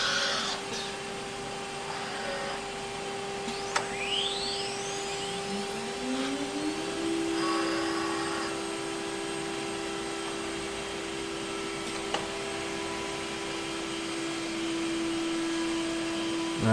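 A CNC machine cutting boat parts runs with a steady whine and rushing spindle drone, its pitch sweeping up as the bit ramps to speed, then holding a constant tone with occasional clicks, no voices.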